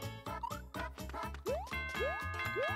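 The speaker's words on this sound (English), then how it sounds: "Ding dong though, huh?" Bright chiming tones from Super Mario Maker 2 ring out in a quick rhythmic sequence of about eight notes, several rising and bending upward, fairly faint and without talking.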